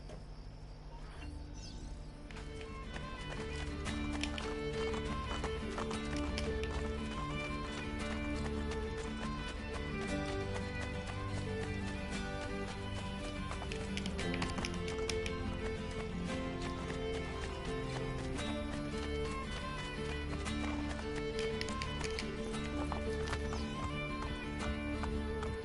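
Horses in Assassin's Creed Brotherhood, heard in a steady clip-clop of hooves with an occasional whinny, running continuously under a dense, loud game soundtrack.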